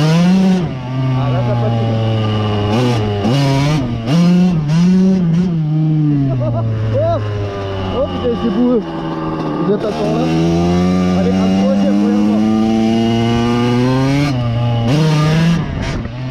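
A 1988 Kawasaki KX80 dirt bike, started after years stored in a barn, revs loudly and continuously up and down close by, its rising and falling engine note filling the whole stretch.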